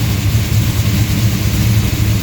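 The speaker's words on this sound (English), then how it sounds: "We have it set so it's idling right around 1000 RPM." DCI Motorsports 535 tunnel port V8 with fuel injection, idling around 1000 RPM, with a loud, lopey, pulsing low rumble close by and no talking.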